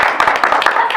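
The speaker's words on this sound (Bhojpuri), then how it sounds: "एक बार ताली बजाइए" Audience clapping at a village stage show, a brief burst of dense, close applause with overlapping hand claps.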